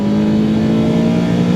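A B18-swapped Honda Integra with a VTEC engine revs hard and close, a loud sustained high-pitched engine tone held steady with no voices.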